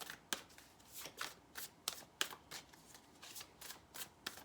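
Oversized oracle cards riffle and snap in an even, repeated shuffling rhythm, soft and close with no voice over it.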